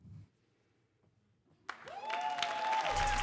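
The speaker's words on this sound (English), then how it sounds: "Give it up for that poet, and keep on clapping" After a near-silent pause, applause erupts abruptly and swells into steady, loud clapping from the audience at a youth poetry slam final, with a high whistle or whoop briefly rising above it.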